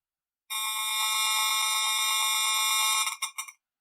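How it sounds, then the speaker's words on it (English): Cell phone radio-frequency emissions rendered as sound, a loud, steady buzzing electronic tone with a fine pulsing texture lasting about two and a half seconds, ending in a few stuttering bursts, with no voices. "a cell phone,"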